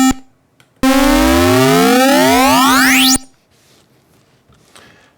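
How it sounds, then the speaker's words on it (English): A buzzy electronic square-wave tone from a maxYMiser chiptune synthesizer sweeps upward in pitch for about two seconds, harmonics bending sharply, loud and synthetic, then cuts off abruptly. "Let's try it with a pitch slide."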